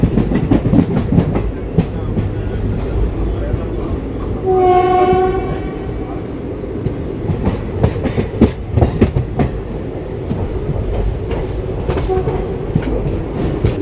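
A passenger train on the Shoranur to Coimbatore line sounds its horn once, loud and sustained, echoing across a foggy open space. Rumbling carriages and rattling wheels run throughout.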